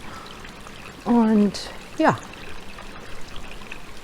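Water trickling faintly through Sarakina Gorge on Crete, a soft steady wash under a man's brief speech.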